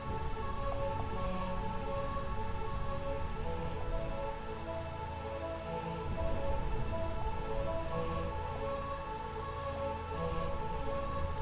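Steady rain pours continuously in the video game Final Fantasy IX, a dense hiss of drops with layered tonal ambience beneath, no voices.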